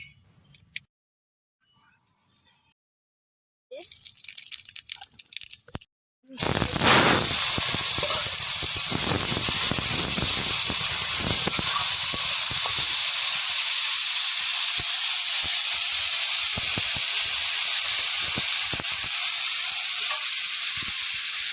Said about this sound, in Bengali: কড়াইতে সর্ষের তেল দিয়ে দেবো।